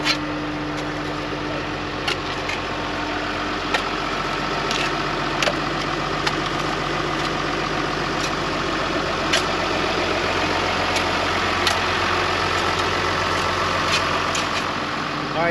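A bulldozer engine idling steadily with a low, even diesel hum and a few faint clicks, close by and mostly alone.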